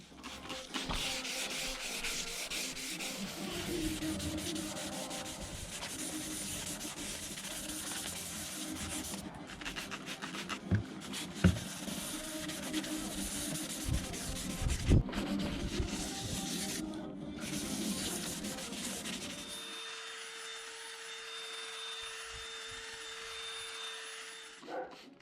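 Sandpaper of 400 grit rubs steadily over a BMW E46 M3 headlight lens, a continuous close scratchy rasp with a few sharper knocks, ending in a quieter steady hum.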